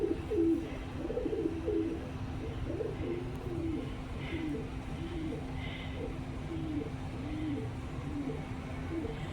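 Pigeons outside the Fox Theater in Bakersfield, California, coo in soft, repeated low phrases over steady outdoor traffic hum, fairly near and continuous.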